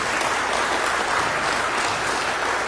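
Church congregation applauding during a worship service, a thick, even wash of clapping filling the room continuously without a break.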